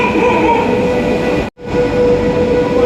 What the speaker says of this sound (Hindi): यहाँ पे ट्रेन आ रही है, लेकिन यहाँ पे इंजन आ गया, देख सकते हैं।